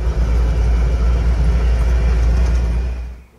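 A Land Rover Series 3 engine idling and pulling off a workshop ramp, a heavy low rumble held steady and close before fading away toward the end.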